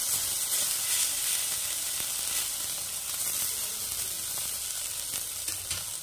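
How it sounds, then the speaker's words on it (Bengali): Crab brain fritters frying in hot oil give a steady, close sizzle that runs unbroken throughout, with no talking. "কাঁকড়ার ঘিলু ভাজাটা দেখাচ্ছি, যে এইভাবে বড়া ভেজেও তোমরা খেতে পারো"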